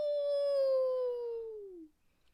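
A narrator's voice imitates a hungry dingo's howl: one long, loud, drawn-out tone that slowly falls in pitch and fades out after about two seconds, followed by quiet.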